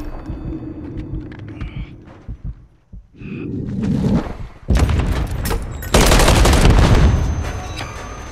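Call of Duty MW3 gunfire in a ranked match: scattered faint shots early, then loud close bursts of automatic fire after a brief lull.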